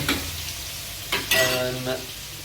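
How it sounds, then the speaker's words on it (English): Food sizzles and fries steadily in a hot pan, close and fairly loud, with a few scraping stirs breaking through over the constant crackle. "So let's get the sizzling out of the way."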